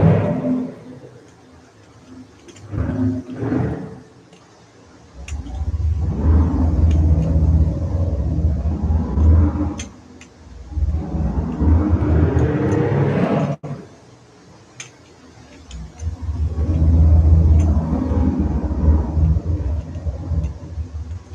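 A car engine in Microsoft Flight Simulator revs in several loud, rumbling surges inside a parking garage, each rising and then falling away, with short quieter gaps between the bursts.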